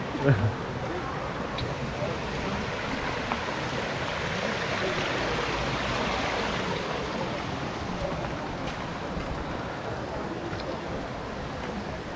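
Rushing water of a river and falls at Banal na Ilog in Dolores, Quezon, making a steady, close, broadband roar that runs without a break for the whole stretch.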